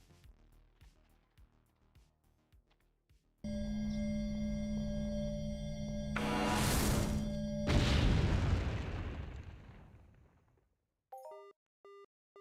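A mining bomb explodes in Entropia Universe: a sustained electronic tone rises into a loud roaring boom that swells and fades over several seconds, followed by brief beeping tones.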